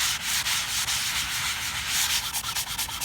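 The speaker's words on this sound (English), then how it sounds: "what we want to do is sand off the polish that you have on the surface" Hand sanding polish off a table surface, a steady scratchy rubbing in quick back-and-forth strokes, close and fairly loud with no talking.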